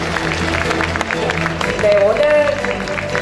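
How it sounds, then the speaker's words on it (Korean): An audience at a governor's inauguration ceremony gives welcoming applause, moderate clapping under crowd murmur, with a speaker's voice also heard. "여러분 환영의 박수 부탁드립니다"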